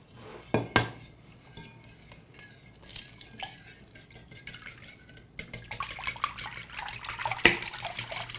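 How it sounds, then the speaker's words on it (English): Eggs whisked into a pudding mixture for tarts, with a couple of sharp clinks of a utensil against a bowl, then a soft continuous stirring scrape with occasional knocks. "You can either whip the eggs beforehand, or you can just whip it like we're doing now as you add it in."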